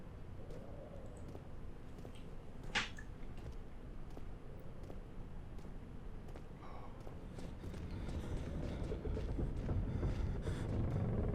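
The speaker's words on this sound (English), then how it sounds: "I hear something. Footsteps." Footsteps in the horror game Amnesia: The Dark Descent thud irregularly over a low rumbling ambience, faint and somewhat distant, building slightly louder toward the end.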